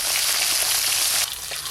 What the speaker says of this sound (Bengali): এই শোল মাছগুলো ভালো করে ভাজা হয়ে গেছে